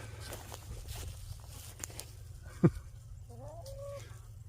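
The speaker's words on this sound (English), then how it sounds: "I got chickens all around me" Chickens cluck softly nearby over a low steady hum, with a few short clucks and one louder squawk, plus faint shuffling footsteps.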